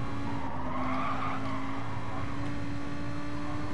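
Tires screech as a car skids in a racing video game, a sustained squeal over a steady engine drone, moderately loud and continuous.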